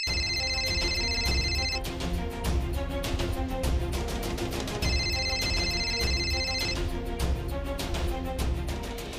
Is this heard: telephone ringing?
yes